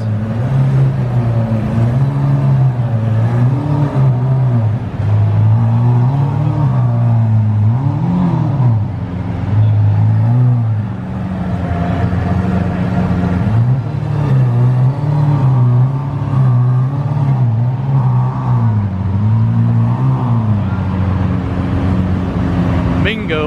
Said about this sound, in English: This one, a little twin turbo action going on here.